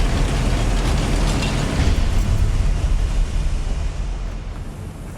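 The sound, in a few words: Confringo spell explosion in Harry Potter video game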